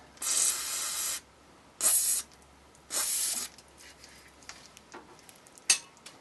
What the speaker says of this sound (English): Guess we'll have to spray it and let it soak.